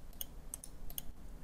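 A computer mouse clicks while drafting in Inventor CAD software, a few quiet, sharp clicks spaced irregularly over a faint background hiss.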